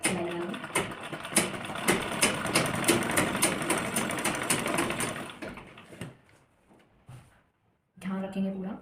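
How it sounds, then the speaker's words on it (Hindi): A sewing machine stitches along the edge of a lehenga blouse in a rapid steady whir for about five seconds, then stops and restarts briefly, with someone talking over it. "और इसके बिल्कुल किनारे किनारे से हम अब सिलाई कर लेंगे"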